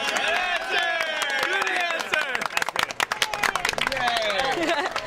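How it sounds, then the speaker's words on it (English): A crowd at an Ultimate Brawl dance event claps for the Mavyn dance team. The applause is dense and close, with cheering voices and chatter running over it throughout. "everything you say, they just clap for you"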